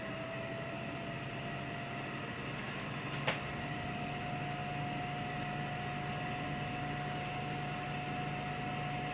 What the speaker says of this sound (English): You can hear my air fryer just coming on.